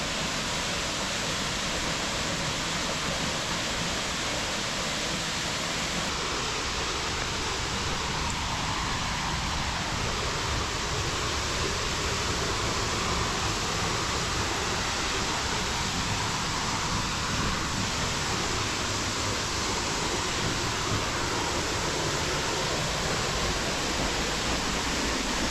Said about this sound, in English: So they have made a little viewpoint for this waterfall.